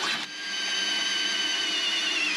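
A power drill bores a 3/16-inch hole through a car dashboard during a Vintage Air kit install in a G-body Cutlass, with a steady high whirring whine running throughout after a brief start.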